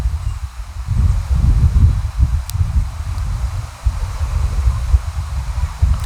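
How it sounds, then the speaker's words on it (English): Strong outdoor wind buffets the microphone in heavy, low rumbling gusts that rise and fall continuously, loud and close, with no speech. "These cards just want to fly away, and the wind got very, very aggressive."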